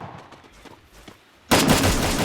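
Gunfire from the Free Fire mobile shooting game bursts in loud and dense after a quiet stretch, then holds as a sustained, harsh barrage to the end.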